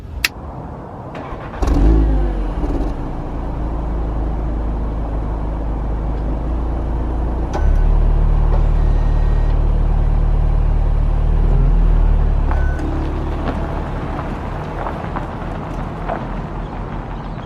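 A 300 bhp Audi SQ2 sports SUV from 2019 starts off and drives, its engine rumbling low and loud with a clear surge as it accelerates midway before easing to a steadier cruising drone.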